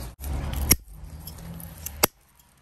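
Scissors snip kumquats from the tree in two sharp, close cuts about a second apart, with leafy rustling and handling noise between them and no talking.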